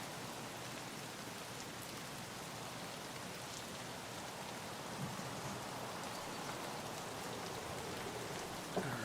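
A dense, even hiss of steady video game rainfall fills the whole stretch, with no voices and only a faint tap or two near the end.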